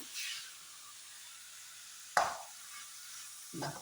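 Broken wheat mixed with ghee is stirred in a pan with the heat switched off, giving a faint dry rustle broken by two sharp, close spoon scrapes against the pan.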